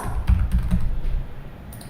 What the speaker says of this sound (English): I am just typing something like this.